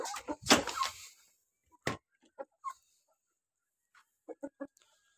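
Village hens clucking softly near a rural home, with scattered short clucks and a few rapid triple clucks, some louder calls early on and quiet gaps between.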